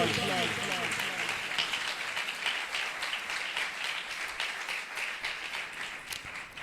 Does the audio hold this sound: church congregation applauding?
yes